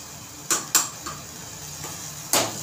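A spoon scrapes through tomato masala cooking in oil in a pan, giving a few sharp, close knocks and scrapes spaced apart against a quiet background.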